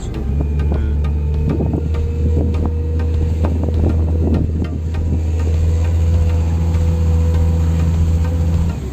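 A boat outboard engine on a Marin Boat Samba Long 6.20 runs in reverse gear, a steady low droning hum with rumbling texture, loud and continuous, with brief clattering knocks mixed in partway through.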